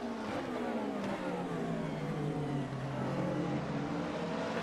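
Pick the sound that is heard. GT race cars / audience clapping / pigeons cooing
GT race cars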